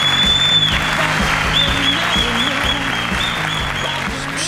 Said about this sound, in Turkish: seni alkışlarla uğurluyoruz